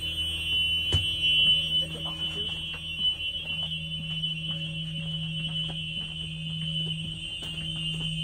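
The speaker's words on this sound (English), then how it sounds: "check, make sure the light and buzzer work" A steady electronic buzzer tone from a Thomas school bus emergency exit drones continuously during a pre-trip check, with faint clicks and a low hum underneath; no voices.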